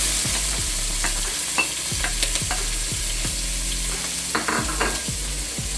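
Onion and bell peppers fry in hot oil in a pot, with a steady sizzle broken by repeated scraping strokes of a spoon stirring the vegetables. No one speaks.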